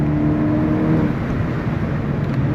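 A Volkswagen Golf GTI TCR's engine holds a steady, loud drone from inside the cabin as the car is driven quickly through a corner, with no talking.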